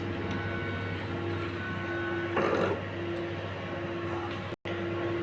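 A large-format sublimation printer runs its printhead cleaning cycle at the capping station, giving a steady mechanical hum and whir with a brief louder surge partway through.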